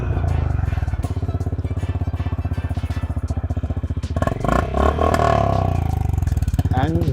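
Honda Highness CB350 motorcycle exhaust idling with a deep, even thumping pulse, then revved sharply into a louder rasping roar before settling back to a steady throb; close and loud throughout.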